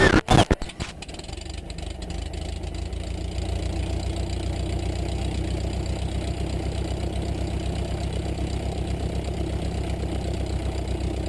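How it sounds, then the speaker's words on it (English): A light aircraft piston engine coughs through a few uneven firing bursts as it starts, then settles into a steady, close, continuous idle around 900 RPM with no talk over it. "Make sure the prop area is clear, and then start the engine."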